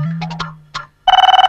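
A phone ringtone starts near the end with a rapid, loud run of repeated electronic tones, following a few short bursts and a low hum; no talking over it.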